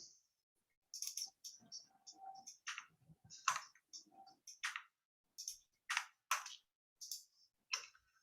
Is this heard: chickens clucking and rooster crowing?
no